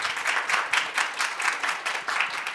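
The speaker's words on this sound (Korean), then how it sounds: "큰 박수 부탁드릴게요, 여러분." An audience at a symposium talk concert on Latin American film and drama applauds, a steady patter of many hands clapping close by for a few seconds with no voices over it.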